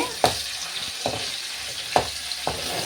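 Tempering spices crackling and sizzling in hot oil, a steady hiss punctuated by several sharp pops and stirring scrapes, close by.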